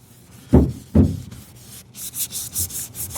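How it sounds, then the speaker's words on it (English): Turtle Wax Magic Restore wipes rubbed across car trim, giving two firm near swipes followed by a run of lighter, quicker rubbing strokes. "Bro, it's just wiping."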